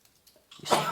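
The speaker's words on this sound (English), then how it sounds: "You sneezed a lot of times in a row." A single person sneezes once, sharply, near the microphone at the very end of a brief, quiet stretch.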